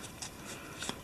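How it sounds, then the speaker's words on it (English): A deck of playing cards is shuffled quickly during a Mansions of Madness board game, a close, steady papery riffle with small flicks and snaps. "Quick shuffle."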